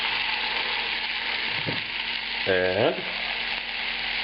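Large pieces of onion and tomato fry in a pan with a steady, close hiss and crackle, while a voice speaks briefly over the sizzle.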